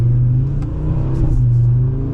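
A 2024 Audi RS3 five-cylinder pulls hard during a test drive on a still-running-in engine, a steady, close engine drone rising as it accelerates, heard alone for a couple of seconds.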